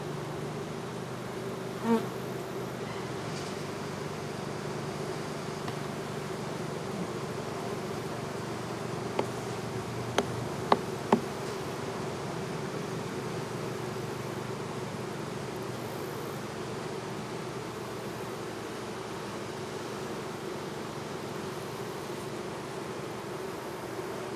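A steady drone of many honey bees buzzing close by around a hive, continuous and even throughout, with a few faint clicks and knocks along the way.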